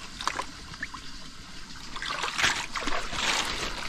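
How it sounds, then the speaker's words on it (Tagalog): Water trickles and splashes faintly while tomato plants are watered in a garden plot, a soft, uneven dribbling that grows slightly fuller toward the end. "Tayo magpapatubig ng kamatis mga utol."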